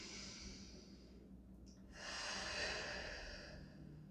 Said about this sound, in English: Good, one more deep breath here.